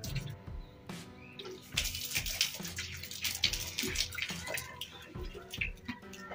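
Water splashed and sprinkled by hand across a dirt-dusted floor in a Pakistani Punjabi village home before sweeping, irregular wet splatters and drips close by with faint background chatter and birds.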